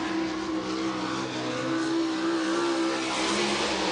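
A World of Outlaws sprint car laps River Cities Speedway, its engine a loud, sustained high-pitched roar with a steady tone that rises and falls slightly as it runs, with no other sounds over it.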